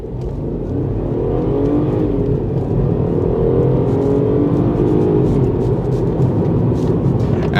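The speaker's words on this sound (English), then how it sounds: "We're just gonna do a quick launch with nothing around me so we can hear this lovely zesty soundtrack." The 1.5-litre engine of an F56 MINI Cooper revs hard during a launch from a standstill, a loud, raspy, climbing drone that holds steady and close throughout.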